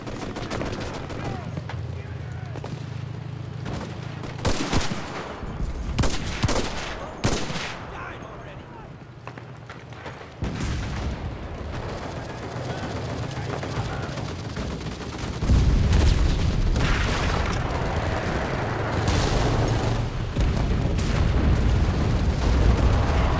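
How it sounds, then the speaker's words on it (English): Artillery fire in the World War II shooter Enlisted, Battle of Normandy: repeated heavy booms and sharp gunfire cracks over a constant low battle rumble, growing louder and denser in the second half. "Artillery support!"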